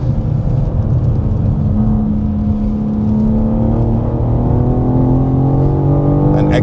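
A 2025 BMW M4 CS engine pulls hard on track, a loud, close, continuous roar whose pitch climbs steadily through acceleration.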